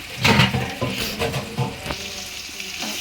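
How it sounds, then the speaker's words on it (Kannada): Sliced onions fry in hot oil for chicken biryani, a steady close sizzle broken by stirring scrapes and clatter, with no voices. "ಒಂದು ನಾಲ್ಕೈದು ನಿಮಿಷ ಇದು ಫ್ರೈ ಮಾಡ್ಕೊಳ್ಳೋಣ"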